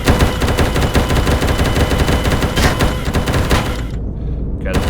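A Gatling gun fires in the Empyrion space game, a loud continuous rapid stream of shots lasting several seconds before cutting off abruptly near the end.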